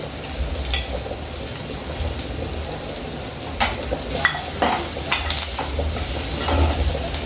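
Garlic, cumin and tamarind fry in hot oil for a mint chutney, a loud continuous sizzle broken by several sharp stirring and utensil clicks on the pan, with no voices.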